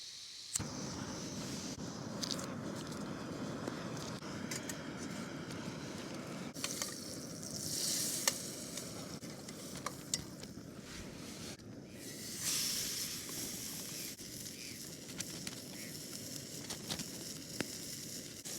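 Burgers sizzle and spit steadily in a frying pan on a camping stove at a wild camp, a continuous crackling hiss with occasional sharper pops, close up and without talk.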